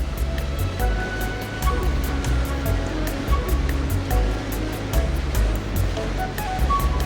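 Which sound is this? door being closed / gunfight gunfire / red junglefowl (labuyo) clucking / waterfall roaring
waterfall roaring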